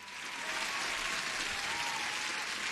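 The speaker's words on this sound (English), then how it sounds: "I need to give you an applause for being here." Continuous crowd applause, dense and even from start to finish, fairly soft and heard alone without voices.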